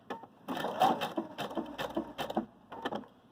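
A Viking Designer Brilliance 80 sewing machine stitching a zigzag, a short run of quick, uneven mechanical clatters and thumps close up, fairly quiet, with no talking.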